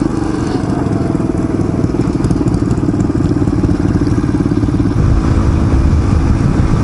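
A Chinese motorcycle's engine drones loudly and steadily throughout, with a rough buzzing rumble and slight shifts in pitch as it rides along.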